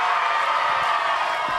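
A crowd of audience members at a youth poetry slam cheers and whoops for young poets, a dense sustained roar of voices with no pauses.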